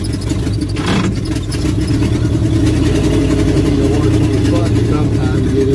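A vehicle engine idles in neutral, holding a loud, steady low rumble near the microphone with a brief faint squeal early on and no voices.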